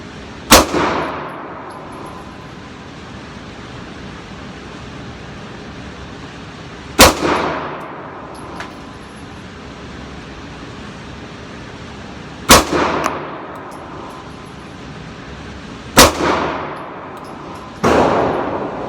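Four sharp 9mm pistol shots from a Dan Wesson Valkyrie Commander, loud and widely spaced, each with a short ringing decay, and a fifth softer impact near the end.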